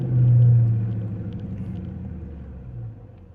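An R/T car engine rumbles from the driver's seat during a drive, a low steady drone that swells early, eases off, then settles into a softer hum, with no talk.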